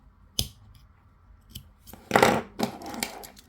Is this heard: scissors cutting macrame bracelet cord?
yes